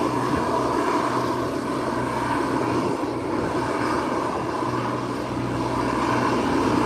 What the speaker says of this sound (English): There goes the Cessna moving in the corner, heading out. Cessna 402.